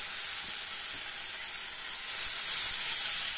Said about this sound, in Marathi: 1 मिनिट भरच परतले.